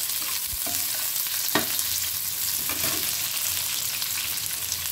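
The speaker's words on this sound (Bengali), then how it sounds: "দেখুন আমি পেঁয়াজ দিচ্ছি আর কয়েকটা শুকনো লঙ্কা ফোড়ন দিয়ে দেবো" Onions and whole dry red chillies frying in oil as a tempering for Bengali khichuri, a continuous loud sizzle with a few sharp clicks of stirring, close and alone.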